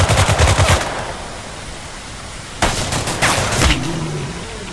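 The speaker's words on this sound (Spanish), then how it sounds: "Esto sigue disparando" Rapid bursts of gunfire from The Last Haven, a forest survival video game, crackle loudly at the start, drop to a rushing noisy hiss, then return in sharp clustered volleys near the end.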